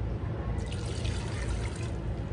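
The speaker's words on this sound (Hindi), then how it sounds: "1 ग्लास पानी मैंने इसमें ऐड कर दिया है।" Water poured from a glass into a pot of lentils seasoned with ginger-garlic paste and turmeric for Hyderabadi sour daal with raw mango; a steady, close trickling pour runs throughout with no talking.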